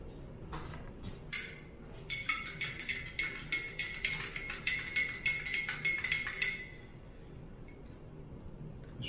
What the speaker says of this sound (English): I'm trying to stir it around by swishing.